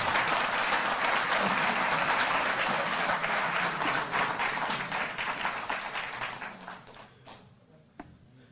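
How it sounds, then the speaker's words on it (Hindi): A hall full of people at a government employee ceremony applauds loudly, the thick clapping holding steady before thinning and fading toward the end, with one last stray clap. "जोरदार तालियों से आप अभिनंदन करें"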